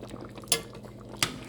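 A spoon scrapes and knocks twice against a pot of chicken and dumplings as it is stirred, two short clinks about 0.7 seconds apart over a faint simmering background.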